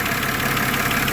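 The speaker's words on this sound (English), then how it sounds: "Sorry, I know it's loud, you know, right next to the engine" Up close beside the engine, a 2007 BMW X3 E83 idles with a loud, steady whirring and ticking drone that stays even throughout.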